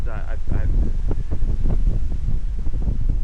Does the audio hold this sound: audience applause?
no